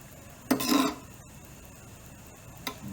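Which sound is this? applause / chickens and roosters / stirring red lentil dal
stirring red lentil dal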